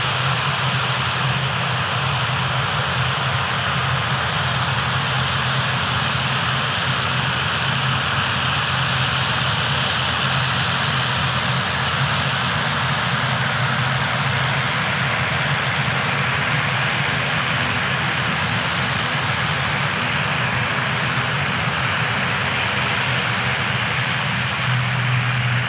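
At an airport, an airliner's touchdown and roll-out make a loud, sustained roar of engines and rushing air that holds steady throughout, heard from a spotting position with no talk.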